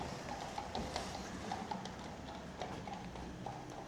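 Steady clip-clop of horse hooves on a hard street in Minchinhampton, a Cotswolds market town, a regular walking rhythm with faint background bustle.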